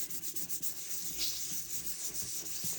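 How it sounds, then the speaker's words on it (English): Wet sandpaper rubs back and forth across a Seiko Hardlex watch crystal, a soft, steady hiss with faint rhythmic strokes, close and quiet with no talking. "So again, same thing, using wet sandpaper"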